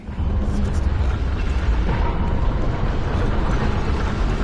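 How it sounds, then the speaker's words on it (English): Church cannon firing in Bloodborne, a loud continuous roaring blast with rumbling low end and crackling noise that holds steadily across the moment. "Church cannon."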